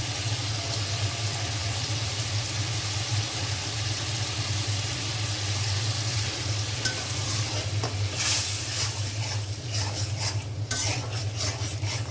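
Spice paste with cumin powder fries and is stirred for a prawn dish, a dense, steady sizzle up close over a low droning hum, with a burst of crackling scrapes toward the end.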